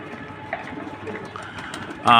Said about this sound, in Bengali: সব কবুতর এখন খাবার খাওয়ার জন্য নামতেছে নিচে খাবার দিছি